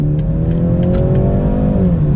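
A 2021 BMW 330i xDrive, an all-wheel-drive sedan weighing about 3,700 pounds, accelerates steadily. The engine note climbs smoothly and loudly through the revs with no talk over it.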